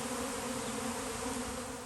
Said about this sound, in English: My yard is full of bees.